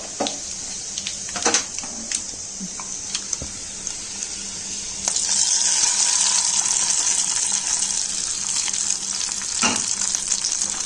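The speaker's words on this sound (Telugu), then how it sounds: "గ్యాస్ ఆఫ్ చేసేసి పోపుని అందులో కలిపేసుకుందాం కట్టె పొంగల్లో" Crackling and sizzling from a hot tempering being mixed into katte pongal off the heat, with scraping and clattering stirring sounds; the sizzle grows louder midway and continues steadily.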